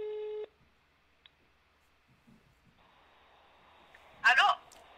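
A telephone call rings with one short electronic tone at the start, then the line goes quiet, with faint rustling and a brief voice near the end.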